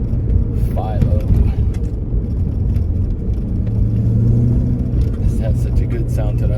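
A 1988 Ford Mustang LX 5.0 V8 with a five-speed rumbles steadily at idle, deep and close, its exhaust note rolling continuously through the whole stretch.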